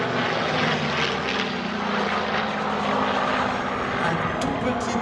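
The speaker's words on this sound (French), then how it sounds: "C'est le Messerschmitt 109." Steady, loud propeller-engine drone of a Messerschmitt 109 piston fighter plane at the La Ferté-Alais air show, constant throughout, with a voice faintly underneath.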